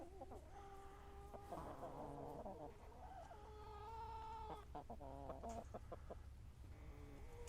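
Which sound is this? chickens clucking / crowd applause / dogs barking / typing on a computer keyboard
chickens clucking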